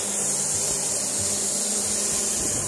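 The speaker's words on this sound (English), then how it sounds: "once you start allowing the water to flow, the actual pressure washer will turn on" A Lavor Galaxy 160 pressure washer blasts water onto old, moss-green concrete, producing a steady, loud hissing spray that runs unbroken and close throughout without speech.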